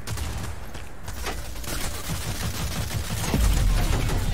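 Shotgun fire in a multiplayer shooter video game. Dense, rapid gunfire continues for several seconds and grows louder near the end, with no clear speech over it.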